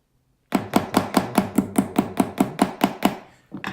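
A quick run of about twelve sharp metallic taps in steady rhythm, close and crisp, followed by one softer knock, as a pin is tapped into a metal watch band.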